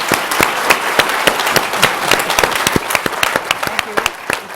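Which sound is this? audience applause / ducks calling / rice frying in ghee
audience applause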